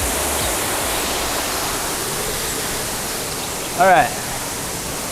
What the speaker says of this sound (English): It's kind of a loud waterfall.